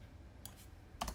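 Two quick key clicks on a computer keyboard, an Option-plus-bracket shortcut pressed while editing in After Effects, close and crisp against a quiet room.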